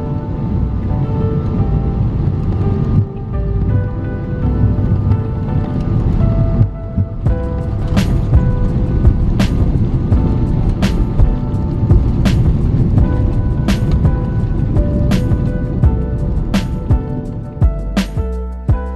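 Aeroflot Boeing 777 engines roaring on reverse thrust after landing at Moscow Sheremetyevo, heard from inside the cabin as a loud, sustained low rumble with rattling and periodic sharp clicks.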